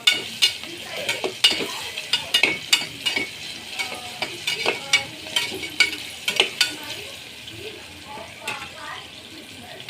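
Potato, onion, tomato, ginger and garlic sautéing in a pan for khichdi, with repeated sharp scraping and stirring strokes over a steady soft sizzle, close and moderately loud.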